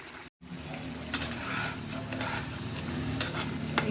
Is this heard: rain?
no